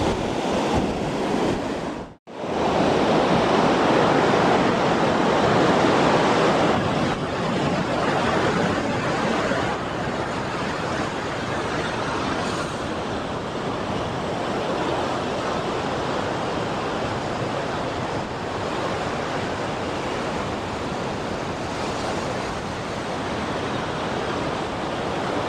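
Sea waves wash steadily along the Konkan coast in the evening, a dense, continuous surf roar close by with wind buffeting the microphone and one brief dropout near the start, no voices.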